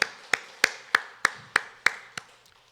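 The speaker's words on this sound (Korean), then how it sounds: "우리 하나님께 큰 박수로 영광 올려드리겠습니다" A church congregation claps during a Sunday morning worship service in Sillim-dong, Seoul, with eight sharp, evenly spaced claps close by, likely a single nearby pair of hands, fading out after about two seconds.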